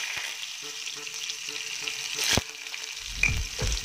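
Cumin, chilli and onions fry in hot oil in a home kitchen pan. A steady close sizzle is broken by a few scraping stirs near the end, and there is no talking.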